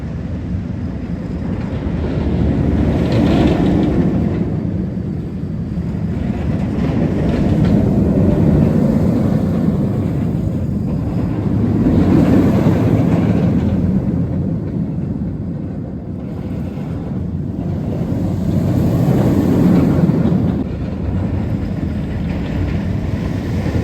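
A B&M floorless roller coaster, Batman the Dark Knight at Six Flags New England, roars along its track in steady rumbling surges that swell and ease several times, loud and continuous with no talking.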